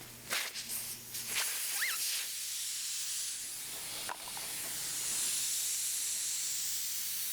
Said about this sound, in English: The first step we need to do is to let some air out of the tire.